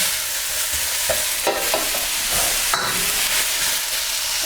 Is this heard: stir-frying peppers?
yes